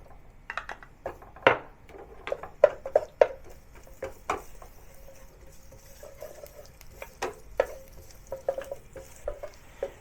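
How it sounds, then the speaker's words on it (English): Ginger slices sauté in hot oil in a pan, with scattered stirring scrapes and clinks of a utensil against the pan over a faint, steady sizzle, close and moderately quiet. "Now heat some oil in the pan to saute the ginger slices."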